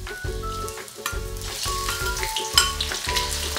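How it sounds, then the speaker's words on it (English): Ginger sizzling and spattering in smoking-hot black sesame oil for a chicken soup, a loud, close, continuous crackle with bursts of popping and the clink of stirring. "you want to put in the ginger. And be careful, it's gonna sizzle, it's gonna splash a little bit."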